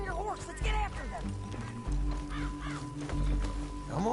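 Rhythmic hoofbeats of a galloping horse in Red Dead Redemption 2 under a busy game soundscape, with bird caws and a horse whinny mixed in.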